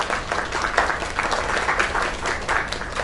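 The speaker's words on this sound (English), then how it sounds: "Another round of applause." An audience applauds steadily in a show broadcast, a dense continuous wash of many clapping hands with a slight crowd murmur, fairly loud and without speech.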